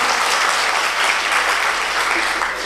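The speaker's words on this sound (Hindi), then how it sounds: "देखो बात समझ में आ रही तो ताली बजाओ एक बार जोरदार।" Loud, dense applause from a live audience at a Hindi comedy show, a steady wash of clapping that holds throughout without any talking over it.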